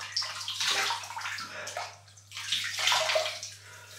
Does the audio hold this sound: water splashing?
yes